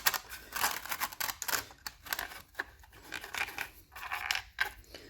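Four nylon screws are handled and started by hand while a wooden piece is fitted onto an acrylic car display, giving close, irregular small clicks, taps and light rattles with brief pauses.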